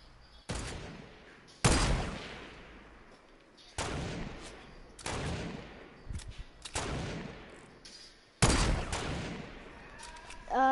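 Fortnite gunfire aimed at a base: a series of loud, sharp shot bursts spaced a second or two apart, each trailing off with a short echo between them.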